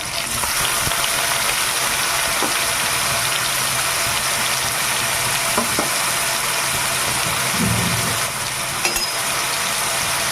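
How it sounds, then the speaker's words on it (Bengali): Chopped onion and tomatoes fry together in a hot pan, a steady, dense sizzle that holds for the whole stretch, with a few soft stirring bumps near the end. "এবার সবগুলোকে একটু ভেজে নেব"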